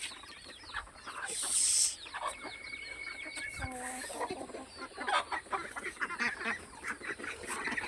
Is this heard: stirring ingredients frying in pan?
no